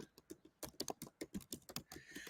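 Keys on a computer keyboard are pressed in quick, uneven bursts of sharp clicks and taps, close by and moderately soft, with no talking over them.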